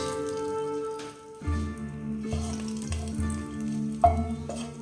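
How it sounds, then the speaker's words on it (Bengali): Whole garam masala, a bay leaf, cinnamon, cloves and cardamom fry in ghee left from frying cashews and raisins, giving a steady, close sizzle with a few sharper crackles and pops along the way. "এবার ওই কাজু কিশমিশ ভাজা ঘিয়ের ভেতরে আমি দিয়ে দেবো গোটা গরম মশলা, তেজপাতা একটা, আর দারুচিনি, লবঙ্গ, এলাচ"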